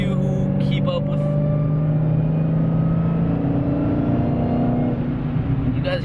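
Dodge Hellcat engine whining steadily while driving, a loud sustained drone of engine and road rumble from inside the car, with people talking over it.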